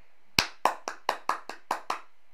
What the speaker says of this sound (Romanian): mi-auzi palmele cum te aplaud